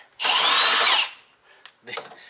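A cordless power drill spinning out trim bolts on a Toyota Tundra pickup, one loud high-pitched whir lasting under a second, followed by a sharp click and softer handling noises.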